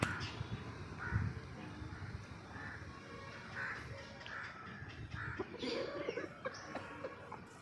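A Thiker aseel rooster, a pure-bred fighting fowl, gives a series of short, repeated clucking calls at close range over a steady, noisy background, with no one talking.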